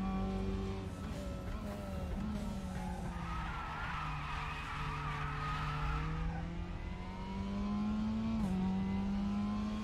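Tyres squeal through a light drift in the RaceRoom racing game, a rising screech layered over a droning, shifting engine note that swells mid-way and fades as the car settles, close and continuous with no talking.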